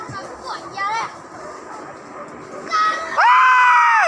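Hunting dogs bark and yelp loudly and in short bursts while cornering a wild boar in the forest, with excited human shouts mixed in and one long high yelp near the end.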